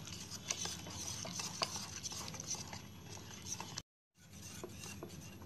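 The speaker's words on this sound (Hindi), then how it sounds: "और 1 कप पानी ऐड करेंगे और इसे अच्छे से मिक्स कर लेंगे" Semolina idli batter being mixed with a cup of water gives a soft, continuous, quiet stirring sound with faint utensil taps, broken by one short silent gap.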